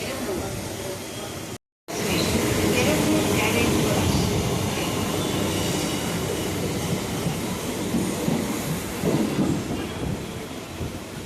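A passenger train rolls into Perambur railway station in Chennai as a loud, continuous rumble and rattle of wheels and carriages, with a brief cut-out near the start before the steady noise resumes.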